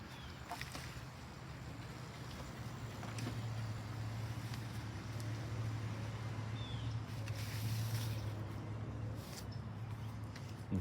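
An old junk lawn mower nicknamed the Mangler runs steadily with a continuous low engine drone, holding a fairly constant, moderately loud idle throughout with no voices.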